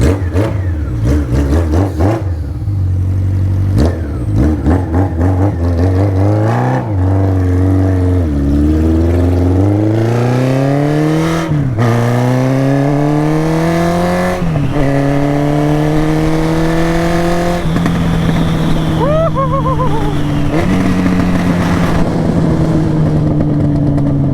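Honda Nighthawk CB750 motorcycle engine running on carb cleaner, revved repeatedly through rising and falling pitch sweeps, each pull climbing then dropping back to idle, loud and close.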